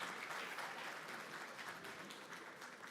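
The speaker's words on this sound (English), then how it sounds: "Let's give them a round of applause one more time." Audience applause at a 2025 opening ceremony, a dense steady wash of clapping from a large crowd that carries on at even loudness for the whole stretch, with no voices above it.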